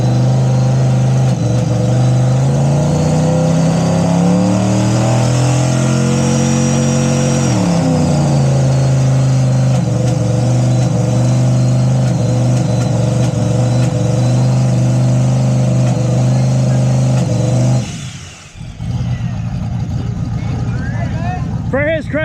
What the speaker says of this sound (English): one of my buddies is about to go do a burnout real quick in his Turbo LS S10